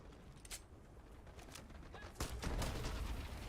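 Pistol shots ring out in a space pirate video game, a few sharp bursts scattered through the first seconds, then a denser, louder volley of gunfire near the end over steady background noise.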